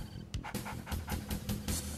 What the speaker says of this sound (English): Now I'll have attack dogs to do attack dogging things